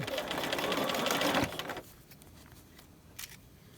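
A sewing machine stitches piping in a rapid, steady whirring run for about a second and a half, then stops, leaving quiet room tone and a brief click.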